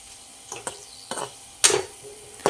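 Pappadam frying in a pan of hot oil, with sharp bursts of crackling and sizzle at irregular intervals, the loudest near the end, close and without talk.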